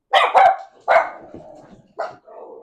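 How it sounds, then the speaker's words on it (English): A pet dog barks loudly nearby, three sharp barks in quick succession followed by a softer, shorter bark and a low trailing whine. "Even when your dogs bark, it's still simple."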